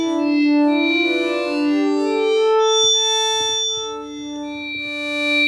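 An ASM Hydrasynth synthesizer patch plays sustained, droning tones with a softened attack, the notes swelling in smoothly rather than striking, rich in harmonics with effects and echo, heard alone and fairly loud.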